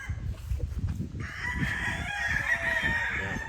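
Pure Duke Halsey lemon gamefowl rooster, a young bull stud, crowing once in a clear, sustained cock-a-doodle-doo at moderate distance over low farm background noise.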